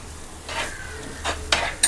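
Fish curry masala with kudampuli sizzles in a pan as a spoon stirs it, giving a few short, close scraping strokes over a soft frying hiss.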